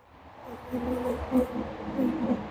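Aggressive honey bees buzz around an opened hive during a honey harvest, a steady close drone with swelling passes as individual bees fly near, fairly soft overall.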